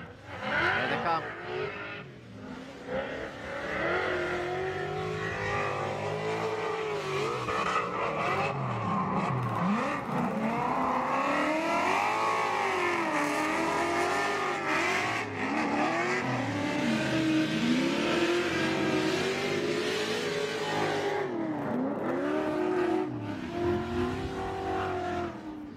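A 1,000 horsepower Ford Mustang drifts past with a loud, sustained engine roar, repeated revs rising and falling and tire squeal, continuous and close throughout.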